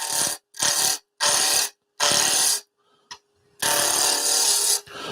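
Roughing gouge cutting a wood spindle on a lathe at around 2,000 RPM, heard as four loud broadband bursts of shaving and scraping, then a near-silent gap with a faint tap, then a longer cut.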